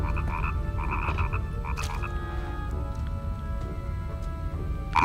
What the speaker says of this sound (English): You see that frog right there? That's the frog we need, the one that just burped up the gas.